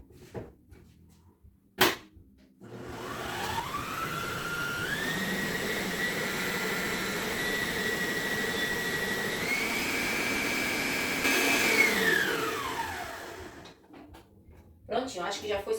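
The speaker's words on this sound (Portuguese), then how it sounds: "Agora vamos bater novamente na batedeira." An electric stand mixer whirs through birthday cake batter, its motor tone rising in steps as the speed climbs, holding steady, then winding down after about ten seconds, with brief clatter before and after.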